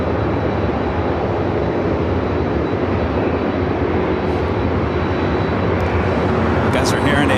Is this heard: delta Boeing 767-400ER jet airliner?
yes